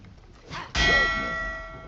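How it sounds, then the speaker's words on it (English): A bell is struck once in a game, a bright metallic clang after a soft brushing sound, its tone ringing on and slowly fading, with no voices. "Let's go ring this dumb bell."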